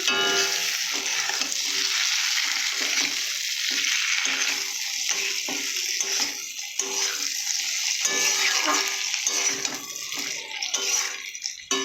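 Fried potatoes being sautéed and stirred in a pan for a thin rohu fish curry, a bright continuous sizzle with intermittent stirring and scraping, close and with no talking.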